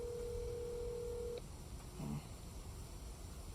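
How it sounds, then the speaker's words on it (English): Telephone line during a call: a steady dial-type tone holds for over a second, cuts off, then a brief dialing beep follows, quiet and alone against faint background hiss. "phoning Archangel Michael, see if she's going to answer."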